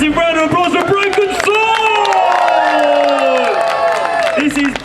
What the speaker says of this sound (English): can we have a massive round of applause for Broken